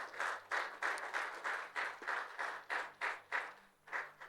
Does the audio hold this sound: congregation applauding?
yes